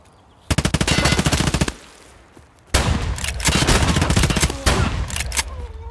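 Rapid bursts of automatic gunfire trade back and forth in an Escape From Tarkov firefight, one sustained volley stopping abruptly before a second, longer exchange of loud, close shots with brief gaps and a few trailing rounds.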